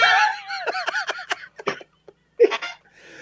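A snoring recording played back at five times speed becomes rapid, squeaky, chattering bursts that sound almost like giggles or hiccups, stopping and starting with brief silences between them.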